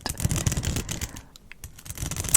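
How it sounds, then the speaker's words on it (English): Crisp plastic clicking from a makeup product's plastic part, a quick run of close, dry taps and clicks with a brief lull in the middle, fairly quiet and intimate. "this clicky sound on the plastic part"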